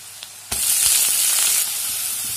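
Greens and potatoes drop into hot oil with fried onion and garlic, setting off a sudden loud burst of sizzling that holds strong, then settles to a steady frying hiss, close up with no speech.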